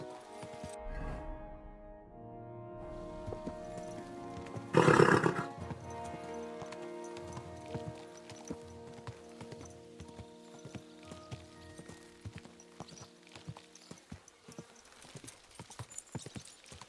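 In the video game Kingdom Come: Deliverance II, horse hooves clip-clop amid rain, with a loud burst of a horse whinnying partway through over a sustained musical backdrop.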